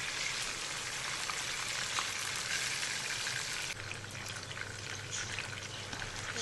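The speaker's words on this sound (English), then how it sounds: "So you want to take care not to over fry the fish." Fish frying in hot oil for pickled fish, a steady close sizzle and crackle that carries on throughout with a slight shift partway, no voices.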